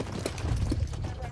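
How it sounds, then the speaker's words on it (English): Horses run in a corral, their hooves making a brief patter of clip-clop beneath a person talking. "Fun to watch the horses run,"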